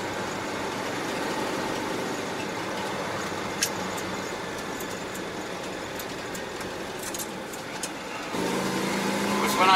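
A Citroen 2CV engine drones steadily from inside the car while driving, a constant low mechanical hum that swells louder near the end, with a couple of brief knocks and no talk.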